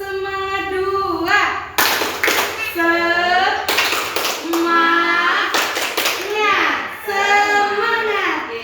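A group of women claps a rhythmic spirit cheer in a classroom-style session, with sharp patterned hand claps mixed with loud chanted voices throughout.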